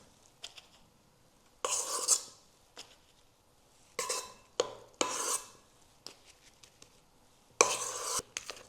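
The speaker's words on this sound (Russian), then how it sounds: "Так, перемешиваем." Cream is stirred into cake crumbs in a bowl for an anthill cake, making intermittent bursts of moist scraping and rubbing. The strokes come in uneven spurts with quiet gaps between them, and no voice is heard.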